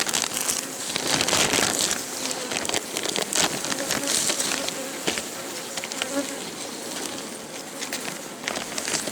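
Honey bees buzz around an apiary hive in late summer, a dense steady swarm hum close by with faint rain-like patter and occasional bird notes, no one speaking.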